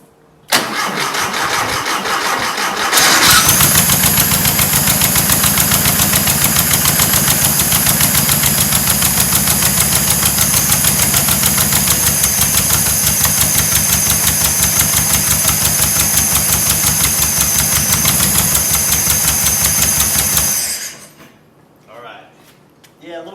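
A VW Type 4 2.0 engine from a Porsche 914, run outside the car, cranks briefly, then catches and runs loud and steady with a rapid even pulse for about seventeen seconds before cutting off abruptly.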